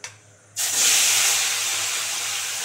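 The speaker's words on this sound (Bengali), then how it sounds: "তেলটা এবারে মাছের মাথা দুটো ভালো করে ভেজে নেব" Fish heads drop into hot white oil in a wok, setting off a sudden loud hiss of frying that holds strong and steady, close up and without speech.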